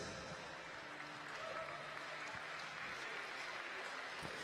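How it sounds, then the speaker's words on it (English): Spectators at a swimming championship finals session applaud the medal winners, a faint, continuous spread of clapping in a large reverberant venue with a murmur of crowd beneath. "Ladies and gentlemen, a round of applause for your medal winners."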